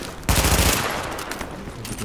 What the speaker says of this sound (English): As you can tell from the gunfire, it's quite loud.